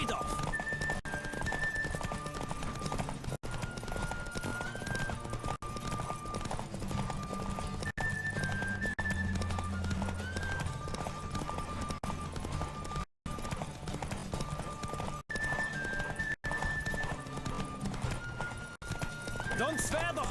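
In The Witcher 3, a horse gallops flat out through a race, its hoofbeats a steady rolling drum with neighs now and then, mixed with game music and characters speaking.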